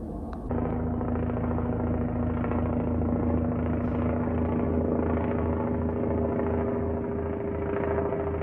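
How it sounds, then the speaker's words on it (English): Helicopter hovering overhead, a constant loud rotor drone with a steady low hum that holds throughout without fading. "there is a helicopter just floating above our heads"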